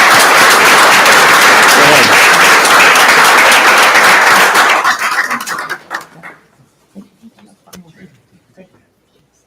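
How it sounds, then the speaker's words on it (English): Council meeting audience applauds in a loud, dense burst of clapping for about five seconds, then it thins into scattered claps and fades out, with a brief spoken word near the end. "let's give them a round of applause as we finish up here"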